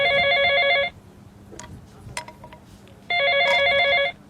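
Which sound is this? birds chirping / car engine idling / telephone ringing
telephone ringing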